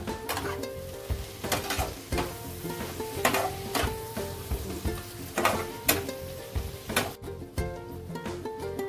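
Chicken with turmeric and Kashmiri red chilli powder being stirred in a pan for chicken kosha, a spoon scraping in repeated rhythmic strokes over a steady sizzle, close and clear, with no talking.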